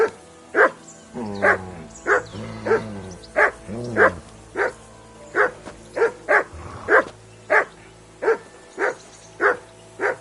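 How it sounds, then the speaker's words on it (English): A dog barks repeatedly and loudly close by, about fifteen sharp barks at a fairly regular pace, with whining, whimpering tones between the early barks and no voices. "Call off that mutt of yours!"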